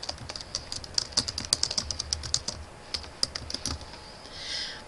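Rapid, irregular keystrokes on a computer keyboard as a form title is typed, close and clear with no voices, the clicks coming in quick bursts with short pauses.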